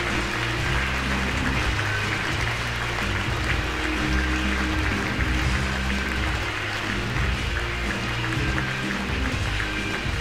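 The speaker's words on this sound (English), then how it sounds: "Please welcome, with a big round of applause, Daniel Eisele." Audience applause at a prize ceremony, a dense, steady wash of clapping from a large crowd, loud and continuous throughout with no voices over it.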